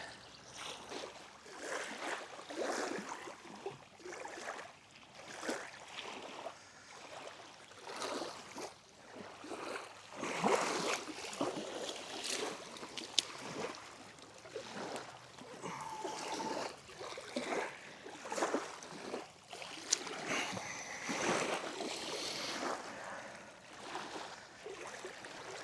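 Small waves lap and splash against the shore or a boat during fishing in rain and wind, with irregular sloshing bursts rising and falling throughout and gusty wind noise underneath, moderately close and fairly soft.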